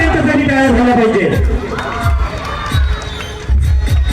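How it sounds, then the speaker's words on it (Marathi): A crowd at an outdoor Govinda performance in Chiplun cheers and shouts loudly, with children's voices in the mix and someone speaking over the noise throughout. "यासाठी त्यांच्यासाठी टाळ्या झाल्या पाहिजे."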